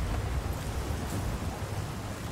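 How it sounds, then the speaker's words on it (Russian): Rainstorm with thunder in the video game Battlefield 4: a steady, dense hiss of heavy rain with a low rumbling undertone of thunder, continuous and even throughout with no voices. "Давай же, буря долго не продлится."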